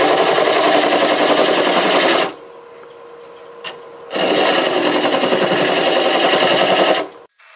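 Wood lathe turning apple wood at about 650 RPM with a half-inch bowl gouge, giving two loud, rattling bursts of cutting that chatter rapidly, separated by a quieter pause where the spinning lathe hums on its own.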